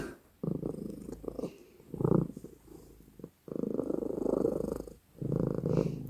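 A cat purrs loudly and close up in rhythmic bursts, each breath cycle a rough, throaty rumble separated by brief pauses, with no talking over it.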